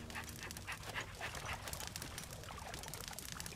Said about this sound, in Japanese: 犬思ったよりでけえ。